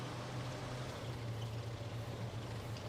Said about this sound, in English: I hope the sound of the engine isn't too loud.